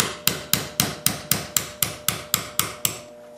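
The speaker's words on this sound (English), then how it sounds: "I'll take my 1/8 inch roll pin punch and I'll punch the pin out." Eleven evenly spaced hammer blows on a 1/8 inch roll pin punch, driving a pin out of a pistol frame during an SD/Sigma kit install, crisp and close with ringing decay, steady rhythm, then stopping.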